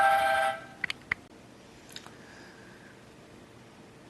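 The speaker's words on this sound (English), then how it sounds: "sorry for the ringing tone. I had to go to the cell phone" A cell phone rings with a bright electronic tone, loud for about half a second before cutting off, followed by a few faint clicks and quiet room noise.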